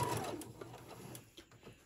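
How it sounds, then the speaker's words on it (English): Sewing machine running steadily as it stitches around a fabric bowl koozie, a quiet continuous mechanical whir with faint rhythmic ticks, alone without talk. "I'm going to sew all the way around."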